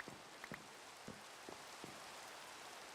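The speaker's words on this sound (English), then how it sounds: "Oh, it's raining too?" Steady rain falls in a sandbox survival game on a small island with a big tree, a constant soft patter with a few brief drips standing out near and clear.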